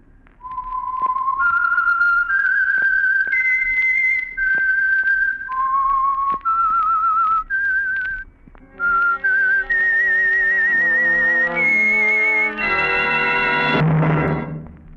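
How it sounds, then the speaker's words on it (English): Whistled theme identifying the Signal Oil radio program, a clear solo melody of sustained and gliding notes, close and loud, ending in a swelling orchestral chord. "the signal to listen for is this whistle that identifies the signal oil program"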